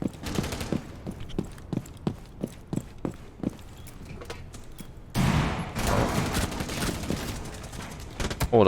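Shooter video game gunfire: a rhythmic run of evenly spaced single shots for about five seconds, then a dense, louder continuous burst of rapid fire to the end.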